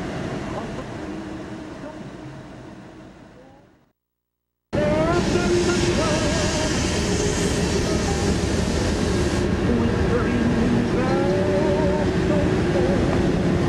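A tanker train carrying jet fuel rolls past near a model airfield, a loud continuous rumble with rail clatter and squealing wheel tones; talk is heard over it, and the sound cuts out briefly before resuming at full strength.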